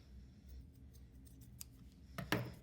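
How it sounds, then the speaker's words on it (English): Scissors snip string for paper plate weaving, with faint rustling followed by one or two sharp, close cuts near the end. "Okay, so I'm gonna go ahead and cut this."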